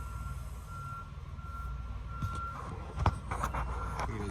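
A truck backs up toward a trailer, its reversing alarm sounding a steady high tone over a low diesel rumble, with a few clanks and knocks near the end.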